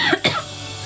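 A person coughs twice in quick succession during a TikTok live stream: short, sharp, close coughs, the second slightly louder, followed by quiet room tone.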